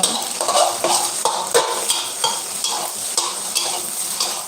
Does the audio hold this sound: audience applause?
no